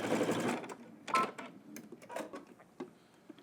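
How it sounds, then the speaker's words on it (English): A sewing machine stitches an outside seam on a garment, short rattling bursts of needle clatter starting and stopping, close and fairly quiet. "let's head to the machine, stitch down your outside seam using 5/8 of an inch seam allowance"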